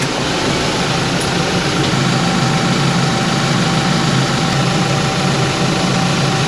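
A tractor engine runs at a steady idle close by, a constant low rumble with broad mechanical noise and no change in pace.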